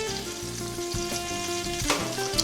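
French toast frying in butter in a skillet gives a continuous soft sizzle over a faint steady tonal hum, with a brief louder crackle near the end.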